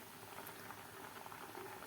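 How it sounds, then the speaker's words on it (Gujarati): Sweet potatoes boil in a pot: a quiet, steady bubbling and simmer throughout, with no voices. "શક્કરિયાને બફાતા આપણે 5 મિનિટ થઈ છે"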